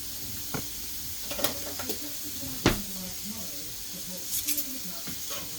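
Broccoli frying on a flat top griddle makes a soft, steady sizzle with a few sharp clicks and scrapes of cooking tools, heard at low level with a voice talking over it.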